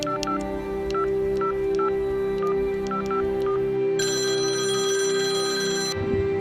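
A telephone rings on a call between Indonesian independence leaders: a run of short electronic dial-tone beeps over a steady hum, then a sustained ringing tone, clear and alone with no voices.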